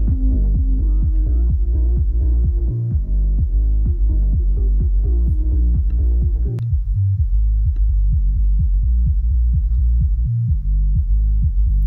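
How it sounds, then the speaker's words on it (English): Low-passed music track with the high end rolled off, leaving only a thudding kick drum and bass line in a steady repeating rhythm, loud and continuous with a brief dip in the middle. "you can throw a filter on it, on the track, and just roll off the high end"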